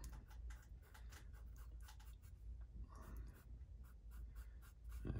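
Pencil sketching lightly on paper, a quiet run of quick rhythmic scratchy strokes close up, with no voices.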